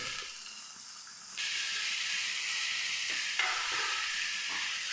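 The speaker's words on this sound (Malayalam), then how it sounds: "ഉപ്പ് ചേർത്ത് കൊടുക്കുക പെട്ടെന്നൊന്ന് വഴണ്ട് വരും ഉള്ളി" Sliced onion with salt sautéing in a pan gives a steady, close sizzle that stays even throughout, with a slight jump in loudness partway through as the frying intensifies, and no voices.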